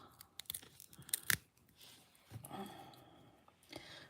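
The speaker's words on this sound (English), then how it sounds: "So let's take that tape off." Tape being peeled off a candle mold while making mini lavender beeswax candles, heard as a few sharp, close tearing rips early on, followed by quieter crinkling handling.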